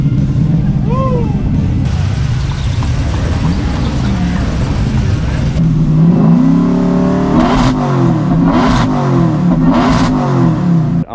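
Supercharged LS3 V8 in a 1972 bagged, chassis-swapped Chevy C10 truck at first startup, loud rising revs and blips close by, with people cheering and talking over it.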